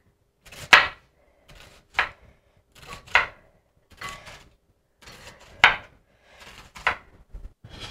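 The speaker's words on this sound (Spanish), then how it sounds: "Cortaremos la cebolla en juliana," A knife slices onion into thin julienne strips on a cutting board, a series of crisp, close chopping taps at an uneven pace, with no talking.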